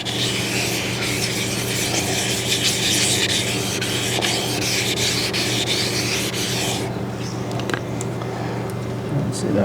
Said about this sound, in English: So I'm not even letting the weight of my hand hold the sandpaper down.